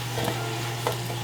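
Faint, soft sizzling of vegetables frying in butter in a pan over high heat, with a couple of light stirring scrapes over a low steady hum.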